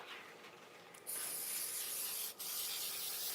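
Mold release aerosol hisses steadily onto a taxidermy form, a close continuous spray that briefly cuts out and resumes, with no talking.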